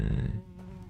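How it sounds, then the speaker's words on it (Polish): A fly buzzes in the horror game Layers of Fear, a close droning hum that fades to a fainter buzz within a second, and no voices. "Jakaś mucha tu lata"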